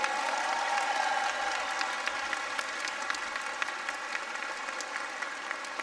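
A church congregation applauds in a steady, dense patter that eases slightly toward the end, with no speech over it.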